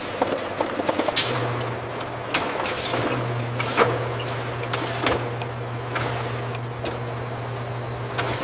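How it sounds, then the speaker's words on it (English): A rotary filler machine fills cans of pears on a factory conveyor line, a steady mechanical hum with a low drone and scattered clanks and hisses, continuous and busy at moderate volume with no voices. "With incredible speed, the rotary filler spins, ensuring not a single drop is spilled."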